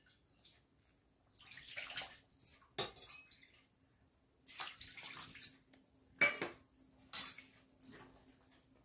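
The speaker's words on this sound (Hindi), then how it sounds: "थोड़ा सा पानी और लेंगे।" Water being added to a pot while cooking kadhi, heard as several separate bursts of pouring and splashing with brief clinks of a utensil between them, fairly close and without talking.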